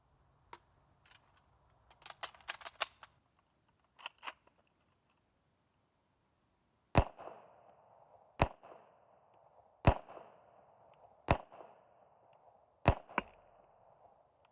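Ruger Mini-14 GB rifle with a cast receiver, fired semi-automatically: a few faint sharp clicks early on, then five loud spaced shots at roughly one-and-a-half-second intervals, each a hard crack followed by a brief echoing tail.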